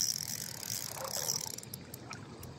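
A fishing reel drag ratchet clicking while a fish is reeled in on a boat, with rapid, uneven bursts of clicks close by over rustling and water noise.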